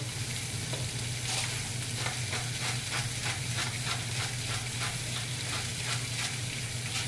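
Veggies frying in sausage grease for a breakfast, a loud, steady sizzle with rhythmic stirring scrapes repeating throughout.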